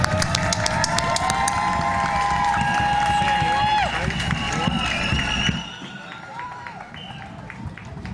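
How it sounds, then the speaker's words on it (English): An audience applauds new graduates at a virtual art school commencement, a steady wash of clapping mixed with tonal chimes and a voice-like layer over it, the applause thinning out after the midpoint. "Everyone, please join me in applauding our new graduates."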